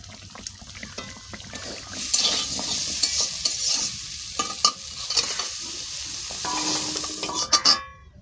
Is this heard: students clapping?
no